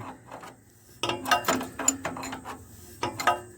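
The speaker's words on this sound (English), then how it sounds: "Got the ratchet attached." A ratchet loosening a bolt on a 1972 GMC C1500, with close, crisp clicking and ratcheting in several short bursts after a quiet start, separated by brief pauses and light metallic handling noise.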